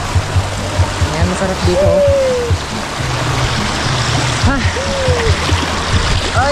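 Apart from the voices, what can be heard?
river water flowing strongly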